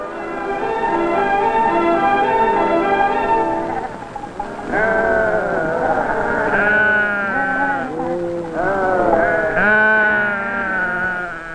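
Tibetan traders' pack goats bleat loudly and repeatedly, their wavering, drawn-out cries overlapping in a close, continuous chorus with no talk.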